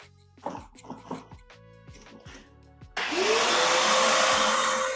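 A vacuum hose moved from the blower outlet to the suction port while converting a school bus into a home: clattering handling sounds, then the machine starts with a loud, steady broadband whoosh and rising motor whine.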